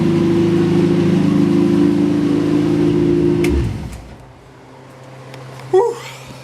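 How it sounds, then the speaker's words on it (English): Car engine idling slightly fast with a steady, loud drone for about three and a half seconds, then cutting off into quiet with a brief knock near the end. "Still idling a little fast, but we'll get there."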